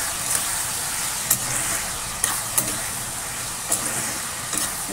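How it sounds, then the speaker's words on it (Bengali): Salted egg fries in a pan, a bright, continuous sizzling hiss up close with a few sharp crackles and pops scattered throughout. "নুন দিয়ে দিয়েছি, এবার একটুখানি ভাজা ভাজা হোক"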